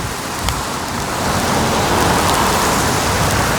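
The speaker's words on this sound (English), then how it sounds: "5 minutes ago it started to rain." Tropical rain shower in Singapore, a dense, even hiss of heavy rain on surfaces that grows slightly louder, close and steady with no voices.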